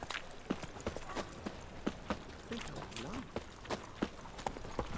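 Horse hooves clip-clop in a steady walking rhythm in The Witcher 3: Wild Hunt, sharp close knocks repeating through the clip over faint ambient background, with brief talk present.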